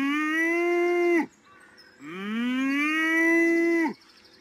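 Cows mooing in a video game: two long, loud, tonal moos close by, the second starting low and rising, separated by a short quiet gap.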